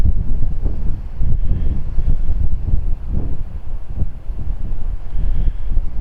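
Strong wind buffets a DJI Mini drone flying directly into it, a loud low rumbling roar with gusty surges and rough microphone buffeting that continues throughout.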